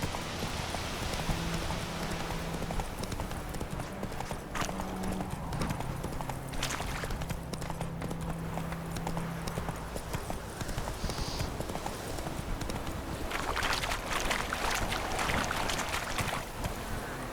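Roach, the horse in The Witcher 3: Wild Hunt, gallops with a fast steady clip-clop of hooves that runs loud and continuous throughout, with game ambience beneath.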